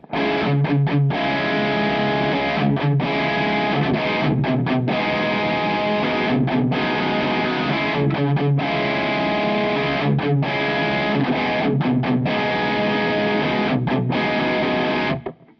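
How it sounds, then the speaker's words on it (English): Electric guitar chords played through distortion in a strummed variation on a theme, with a steady, loud, sustained wall of sound and short rhythmic chops between the chords, alone without speech. "Distortion on, then a bit of a variation on a theme."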